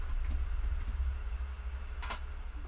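Fingers tapping on a computer keyboard, a brief run of light clicks near the start and another short burst near the end, faint and close over a steady low hum, with no talk.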